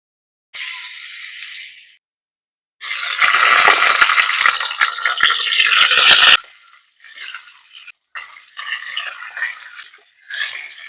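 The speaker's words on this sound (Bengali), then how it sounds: "এবার সব রকম সবজি যে নিয়েছি, যেগুলো হাতের কাছে ছিল, সবগুলো দিয়ে ভেজে নেব" Potatoes, pumpkin, cauliflower and flat beans sizzle hard in salted mustard oil for khichuri, in loud hissing bursts. Rattling and scraping of stirring break in between, and the sizzle fades and returns in shorter spurts.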